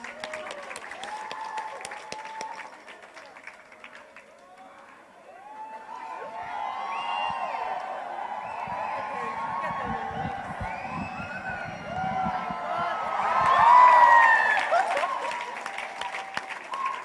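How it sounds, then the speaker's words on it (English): Festival audience at the Hornbill Festival 2022 applauding and cheering a challenger from the Kuki community, a steady crowd roar that swells toward a loud peak near the end, with whoops and faint voices mixed in. "A big round of applause."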